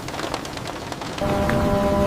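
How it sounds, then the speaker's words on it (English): Steady rain falling in a close, even hiss with scattered drop patter, moderately loud, and a low steady hum joining partway through. "When I listen to the rain, I feel very comfortable and safe inside my house."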